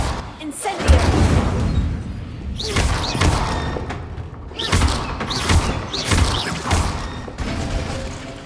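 In Hogwarts Legacy, the Incendio fire spell and other spells are cast repeatedly, producing several whooshing, thudding bursts spread across the stretch amid game ambience and a voice talking.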